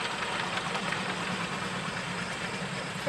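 Tractor engines, including John Deere machines, rumble steadily in a tractor parade. The drone is continuous and moderately loud, heard from nearby with no clear passing peaks.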